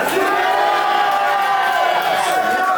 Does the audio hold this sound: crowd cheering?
yes